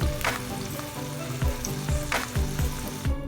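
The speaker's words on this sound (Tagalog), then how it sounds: "Ngayon naman, iprito ang hotdog." Hotdogs sizzle loudly in a hot pan, punctuated by rhythmic scraping knocks of a spatula moving them around.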